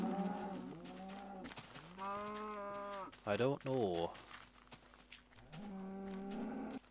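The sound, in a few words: cows mooing in a video game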